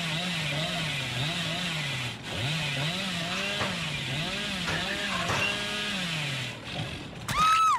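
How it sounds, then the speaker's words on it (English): The Hillbilly's chainsaw revs in the video game Dead by Daylight, a buzzing motor that wavers up and down in pitch in repeated surges for several seconds, ending with a sharp burst of noise. "They're gonna wind up a chainsaw."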